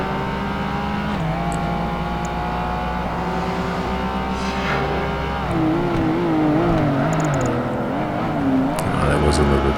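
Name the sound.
race car engines in video game Project Gotham Racing 2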